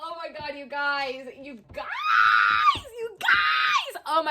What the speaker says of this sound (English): sorry for the screaming